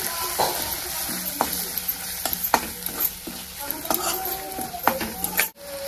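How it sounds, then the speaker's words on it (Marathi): A spoon stirs and scrapes through spices and coriander powder frying in oil in a pan for a gram curry, with a steady sizzle under repeated sharp clinks against the metal. "छोटा 1 चमचा धने पावडर टाकले। आता हे सगळं मी हलवून घेणार आहे।"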